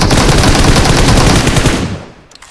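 Rapid, loud automatic gunfire in a video game rattles continuously for about two seconds, then cuts off, leaving a few faint clicks.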